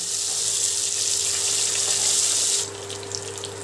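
Banana stem (thor), soaked in salt water, frying in a pan, a steady bright hissing sizzle that runs close and even for over two seconds before easing to a softer crackle.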